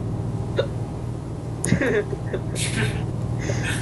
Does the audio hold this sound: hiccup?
yes